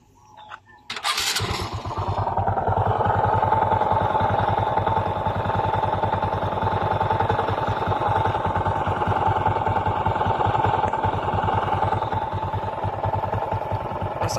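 A Honda XRM 125 carbureted motorcycle with a worn connecting rod or side bearing starts after a few attempts, then idles loudly and steadily up close with a rough, rapid knocking rattle running through the engine note.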